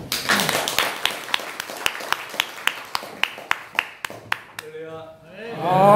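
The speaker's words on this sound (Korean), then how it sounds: "박수." Clapping at a church worship service for police officers, a run of sharp, evenly spaced claps from a few people that fades out as a voice begins speaking at the end.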